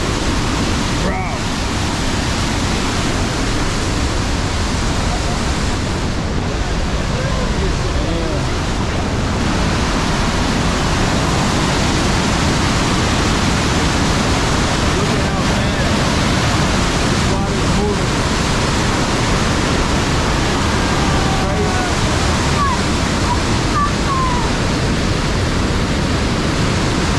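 Rhine Falls, Europe's largest waterfall, produces a loud, unbroken roar of crashing water that fills the whole scene steadily from close by, masking any other sound.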